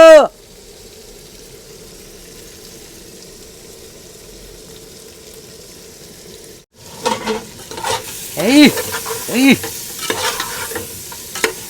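Green chilies tipped into chicken curry frying in a pan, starting with a faint steady sizzle, then loud scraping stirring strokes and crackling as the mixture is turned.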